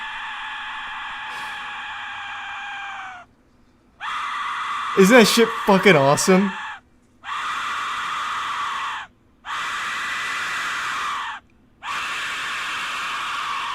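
A death whistle letting out long, loud, piercing shrieks, five sustained blasts separated by short gaps, with a voice cutting in over the second one.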